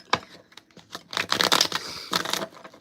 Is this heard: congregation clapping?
no